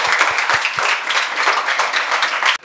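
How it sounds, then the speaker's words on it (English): Students at an English-speaking debate competition clap for themselves in a classroom: a steady, close burst of many hands clapping that stops abruptly at the end. "please clap for yourself"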